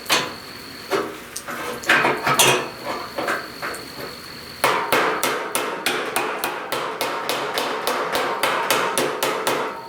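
Dent repair tools hammer a severely dented steel fender from a 1969 C10 pickup. Metallic blows ring out, scattered and uneven at first, then settle into a steady, fairly fast series of sharp taps close by.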